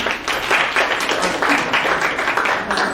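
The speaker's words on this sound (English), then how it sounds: "Please give her a big round of applause to welcome her." An audience at a senior center event in a retirement community applauds to welcome a performer, with dense, even clapping throughout at close to moderate distance.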